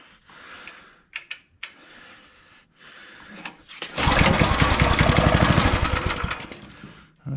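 Master-Till garden tiller engine on half choke: scattered clicks and brief sputters, then the small engine catches and runs loud and steady for about three seconds before cutting out.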